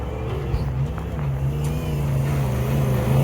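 A Jeep engine growls steadily as it climbs a steep, loose hill, a low continuous drone rising slightly in pitch and loudness as it strains upward.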